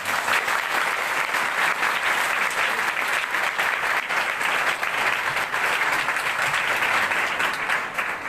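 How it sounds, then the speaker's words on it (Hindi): Crowd at a Rajasthan SDRF public awareness demonstration in Gangapur, Sawai Madhopur, applauds loudly and steadily for more than eight seconds in an even, unbroken wash of clapping. "अगर ये कुछ जानकारी आपको बहुत अच्छी लगी हो तो एक बार जोर से ताली बजाएं।"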